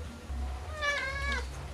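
A pet cat gives two short meows close by, the second slightly shorter, with a low background hum and no talking.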